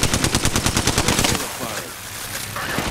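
Rapid automatic gunfire in the video game Apex Legends, a loud close burst of evenly spaced shots for over a second, then fading into a lower rumble of sound effects.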